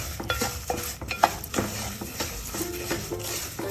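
Semolina roasts in ghee with almonds in a pan over low to medium gas for a puja prasad. A spoon stirs and scrapes it in uneven strokes over a soft sizzle, with occasional metallic taps against the pan.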